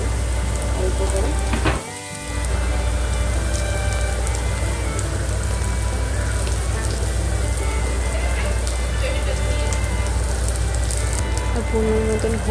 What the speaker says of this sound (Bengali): ভালো করে নাড়িয়ে লাল লাল করে ভাজতে হবে যতক্ষণ না সিদ্ধ হচ্ছে